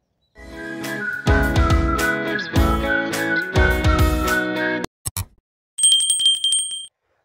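Several bright bell rings in quick succession, each ringing out briefly, followed by a short high electronic chime; no talking.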